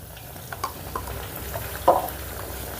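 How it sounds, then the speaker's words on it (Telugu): Ginger garlic paste frying with onions in a pan for a tamarind curry, a soft quiet sizzle with a few scraping stirs and one louder clatter of the spoon. "ఈ అల్లం వెల్లుల్లి పేస్ట్ను పచ్చివాసన పోయేంత వరకు ఫ్రై చేసుకుందాం"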